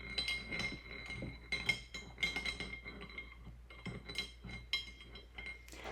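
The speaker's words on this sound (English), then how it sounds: "I'm gonna go ahead and rinse that brush off." Acrylic paintbrush rinsed in a water container, bristles clinking and tapping against the glass many times in quick irregular bursts, close and fairly quiet.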